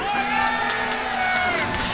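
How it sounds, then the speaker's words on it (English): Tournament crowd at a MomoCon 2024 Mario Kart 8 Deluxe 2v2 grand finals cheering and whooping in a big hall, a loud sustained roar of many voices with shouts rising above it. "We got the crowd popping off."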